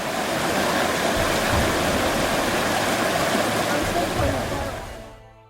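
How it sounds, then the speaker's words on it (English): Creek water rushes steadily at a creek crossing on Hinchinbrook Island in North Queensland, a loud, continuous broadband wash that fades out at the end. "we find our first creek crossing"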